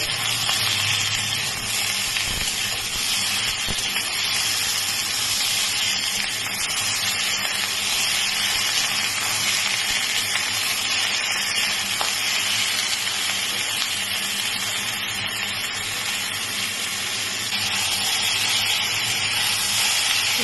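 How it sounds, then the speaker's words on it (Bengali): Ridge gourd pieces frying together in a pan with green chillies give off a steady, even hiss of hot oil and steam that holds for about twenty seconds with no talk. "ঝিঙে সবগুলো একসাথে ভেজে নেব"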